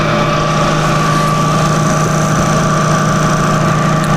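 A Bridgeport milling machine runs steadily, a loud continuous motor drone with a constant hum and faint whine, unchanging throughout with no voices.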